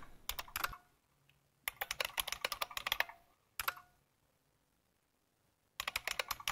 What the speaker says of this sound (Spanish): si estoy en el TTY número 4, y escribo mi usuario y mi contraseña